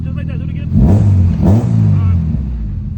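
A Honda car engine on a dyno surges in two hard full-throttle revs over a steady idle rumble, each rising then falling back, loud and close, with a voice speaking near the start.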